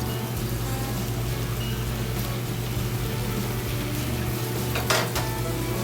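Dijon mustard, Worcestershire sauce and honey being stirred together in a bowl, a steady close scraping and swishing with a few brief clinks of a utensil against the dish, no talking.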